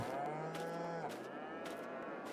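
A herd of cows in Farming Simulator 22 lowing with a long drawn-out moo over a low background hum, steady and moderately close.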